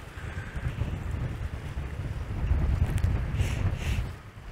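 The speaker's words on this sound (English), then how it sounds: "It is, I don't know if you can tell, it's pretty windy." Strong wind blows by the lake on a snowy day, a continuous low rushing and buffeting against the microphone that swells louder midway, with a faint higher tone briefly rising near the end.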